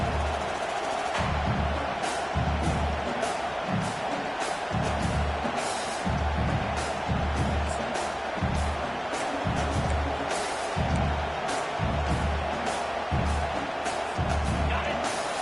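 A football stadium crowd roars steadily throughout, with a broad, constant wash of noise under a commentator's voice talking over the game.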